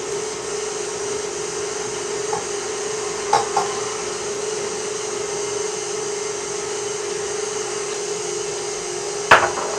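An electric mixer whips heavy cream for a keto mousse, giving a steady, constant motor whine throughout with a couple of brief clanks against the bowl.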